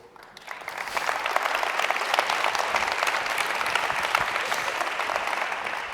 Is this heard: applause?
yes